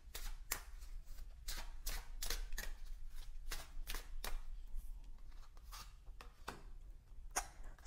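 A deck of Chakra Wisdom oracle cards is shuffled by hand in a quick, rhythmic series of riffles and soft slaps, close and clear, with no talking.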